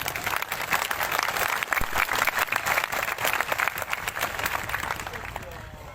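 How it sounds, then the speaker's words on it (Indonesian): Lively applause from the audience at an anniversary celebration of a martial arts organisation, with dense, rapid clapping sustained for several seconds and voices mixed in before it tapers off. "Tepuk tangan untuk Kerasakti."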